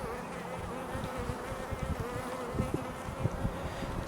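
Black honeybees buzzing over a hive frame of nectar and pollen, a dense steady drone close by with small swells and individual wingbeats flickering through.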